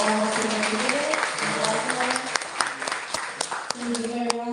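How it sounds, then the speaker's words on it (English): Audience applause for a speaker after a presentation, a steady wash of clapping with voices talking over it throughout. "Please give a round of applause for our speaker today."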